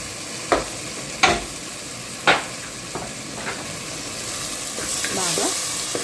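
A spoon scrapes and stirs tomatoes and spices in a sizzling frying pan for a cucumber dal, giving a few sharp clinks against the pan over a steady close frying hiss.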